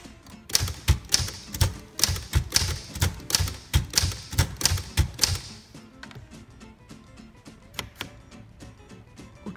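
Keys strike on a 1931 Royal 10 manual typewriter in a quick, even run of sharp clacks. They then thin to sparser, quieter taps and a few isolated strikes, close up with no voices.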